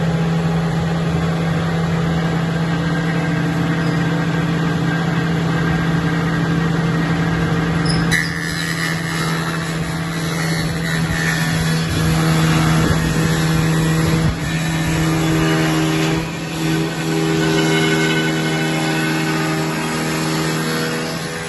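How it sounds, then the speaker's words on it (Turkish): An Ege Makina 5 cm multi-slicing machine runs with a steady loud motor drone and hum, and a rougher clattering texture joins partway through as pieces are fed in and sliced. "Kapağını kapatıyorum. Makineyi çalıştırıyorum. Parça verelim."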